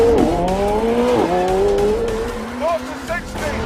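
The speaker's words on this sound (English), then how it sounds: "Left foot on brake. Push launch. Full throttle. Boost building." A McLaren Senna launches hard at full throttle, its engine note climbing steeply through the revs in a loud, close, continuous howl with a brief dip at a gear change.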